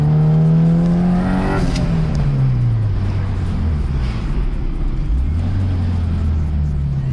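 Turbocharged Honda Integra DC2 with a B18C engine heard from inside while engine braking, loud and steady as the engine note drops from high revs to a low drone, then picks up slightly.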